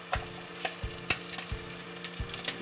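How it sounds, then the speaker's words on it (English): Contents frying in butter in a hot pan, sizzling steadily while a utensil stirs and scrapes the sides in regular close strokes, with no talking. "we just pour the contents into the hot pan with butter"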